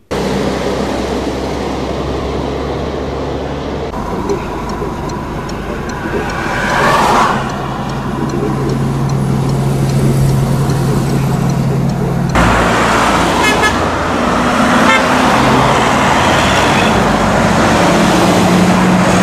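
Heavy holiday-return road traffic grinds up the Kemikli ramps in Eskipazar, Karabük, toward Istanbul: a loud, continuous rumble of passing engines and tyres, with brief tonal sounds that may be horns.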